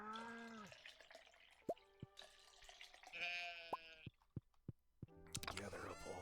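Sheep in Stardew Valley give a few short, quiet, tonal bleats among sharp dripping clicks and other game sounds, while a person talks over much of it.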